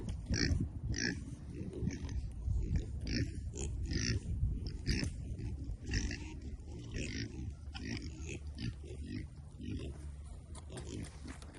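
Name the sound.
pigs moved to the woods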